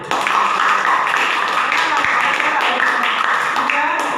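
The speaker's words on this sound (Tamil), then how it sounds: "இதுக்காகவே அவங்களுக்கு ஒரு கைத்தட்டு" An audience at a Tamil stage debate (pattimandram) claps loudly and continuously, a dense, close wash of many hands, with a voice talking faintly through it.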